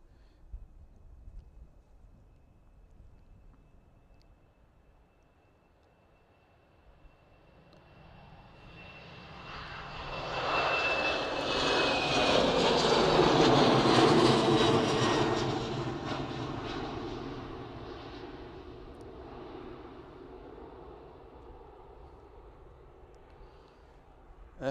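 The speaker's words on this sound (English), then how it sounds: "Air France hopping its way back to Paris." An Air France airliner departing Manchester Airport, its engine roar swelling from faint to a loud broad rush as it passes, then slowly fading into the distance.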